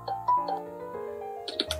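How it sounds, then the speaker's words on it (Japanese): A LINE app voice call rings out as a steady, repeating electronic ringback melody, quiet and alone with no talking, before a few brighter clicks near the end. "じゃあちょっとまほちゃんに電話をかけてみたいと思います。"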